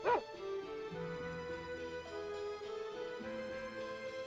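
In the video game Tales of Phantasia, a dog gives a single sharp bark at the start, followed by continuous game music.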